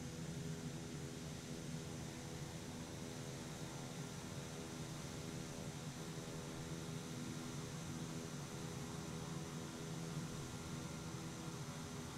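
A twin-engine Twin Otter turboprop in a flight simulator game hums as it takes off, a steady, even engine drone with faint tonal whine, constant in level and unbroken by talk.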